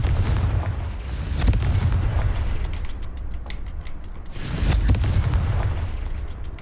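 Two heavy, booming Confringo blasting spell explosions in Hogwarts Legacy, each a deep rumbling burst with a crackling tail, loud and close, separated by a few seconds of lingering rumble.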